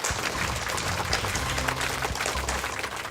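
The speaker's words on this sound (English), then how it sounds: "A round of applause for the Philippines School." Audience applause for a school quiz team at a televised school quiz competition on stage, heard as a steady, dense wash of clapping throughout, moderately loud with a faint low hum underneath.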